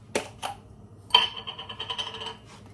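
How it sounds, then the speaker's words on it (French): A can of Matcha & Co drink is cracked open: a couple of sharp clicks, then a louder pop followed by roughly a second of fizzing hiss, close and quiet in a calm room. "Je vais ouvrir une canette avec vous"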